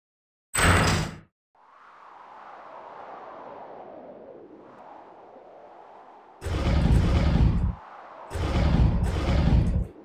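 Door sounds in a video game: a short harsh burst, then a long mechanical grinding slide, followed by several loud blocky bursts near the end.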